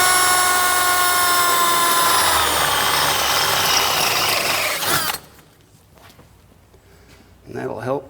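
A power drill whines loudly at close range while drilling into a Chrysler 8-3/4 rear axle housing for a plug, then cuts out, leaving a quiet gap before a brief burst of scraping and tool noise.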